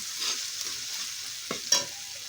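Spice paste with ground coriander sizzles in a pan for a Bengali papaya kofta curry, a soft continuous fry broken by a few scraping stirs, the last one sharper and louder.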